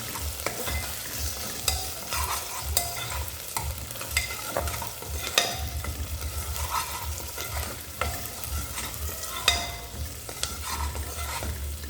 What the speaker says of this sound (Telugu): ఇప్పుడు మనం 1 టేబుల్ స్పూన్ అల్లం వెల్లుల్లి పేస్ట్ అయితే వేసుకుందాం.